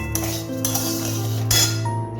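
Moong dal khichuri stirred in a pot, light metallic clinks of a utensil against the pot over a quiet steady background hum, close and brief.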